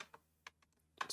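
A few sparse computer keyboard keystrokes, faint and close, with a short quick burst of typing at the end.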